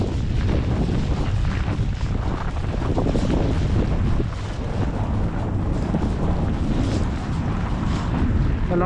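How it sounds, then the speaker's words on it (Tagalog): Strong wind buffets the microphone in a steady, loud roar with rushing gusts throughout, outdoors on a flooded street in Canada, with no voices. "Malakas lang yung hangin."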